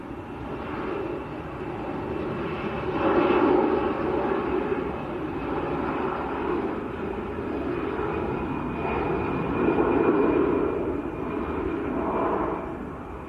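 An EasyJet jet airliner bound for Rhodes rolls for takeoff at Manchester Airport, its engines a steady broadband roar at moderate distance that swells and eases in a few slow waves without stopping.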